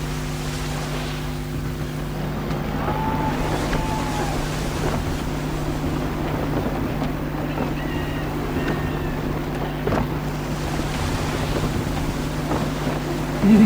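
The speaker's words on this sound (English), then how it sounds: "Gusty winds can be difficult to manage." Sailing ship under full sail at sea in gusty wind, from the Assassin's Creed 3 video game: a steady broad rush of wind and water with a low hull rumble, continuous and fairly loud throughout with no talk.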